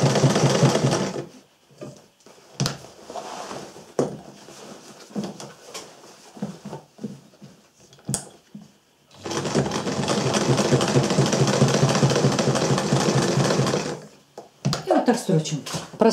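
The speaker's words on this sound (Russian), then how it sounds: "Прострочили мы нашу заплаточку" A sewing machine stitches a patch over a hole at the knee of jeans, running in short bursts early on and then in one long steady run, with a person speaking in between.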